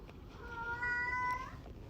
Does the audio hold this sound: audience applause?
no